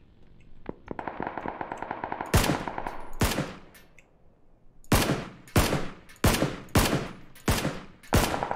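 Gunfire in the PUBG video game: a sustained automatic burst followed by a string of loud, sharp rapid-fire bursts, repeated at short intervals and close up.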